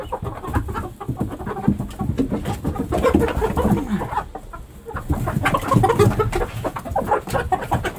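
Chickens cluck and squawk close by in a homestead coop, with ducks nearby, a dense, continuous flock chatter with overlapping calls throughout.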